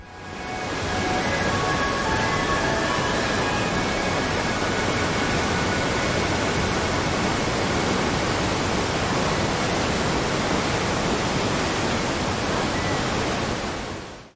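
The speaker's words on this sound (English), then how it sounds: "the best sounds come from exploring the world. The ambience, the weather, the wind, the water," Video game ambience of wind and flowing water, a dense, steady rushing wash that fades in and holds at a constant loud level throughout.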